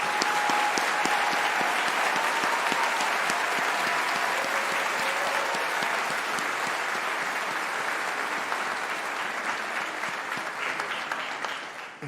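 Sustained applause from a convocation audience honouring science graduates, a dense, steady wash of many hands clapping that stays loud and even for the whole stretch, tapering only slightly at the end.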